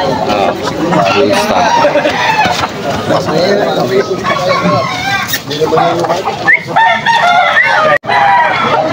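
A bullstag rooster crows repeatedly at a busy Sunday poultry market in Malolos, Bulacan, among other clucking fowl, with crowd chatter and people talking over it, close and fairly loud.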